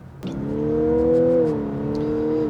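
A Lexus LC500h hybrid coupe in Sport Plus mode accelerates hard, its engine note rising in a strong, steady whine that swells and holds close by, with no talk.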